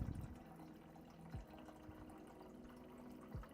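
An office water dispenser fills a water bottle with a faint, steady stream, and the pitch shifts a little as the bottle fills.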